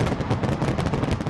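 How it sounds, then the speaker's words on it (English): Dense, rumbling crackle of New Year's Eve fireworks bursting over the River Thames in London in rapid succession, loud and continuous like a barrage. "Big Ben's chimes were drowned out as fireworks exploded over the River Thames"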